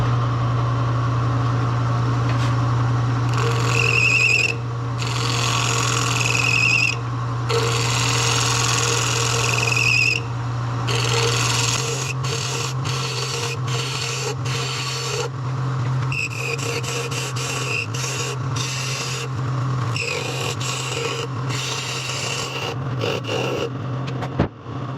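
A woodturning lathe hums while a tool shapes the curve of a multi-colored resin and wood bowl, with rasping, scraping cuts that come in bursts and pauses over the steady motor drone.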